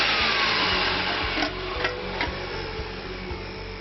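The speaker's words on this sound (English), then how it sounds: "I'm going to blip the first motor and then have a look inside" A DM series vacuum motor is switched on briefly, giving a loud, steady broadband whir with a low mechanical hum and faint rattles, running throughout at close range.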